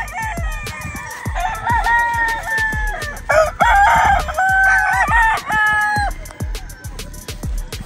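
Chickens and roosters at a game farm coop crow repeatedly, overlapping one another with long, drawn-out calls over a steady run of sharp ticking clicks, close and loud.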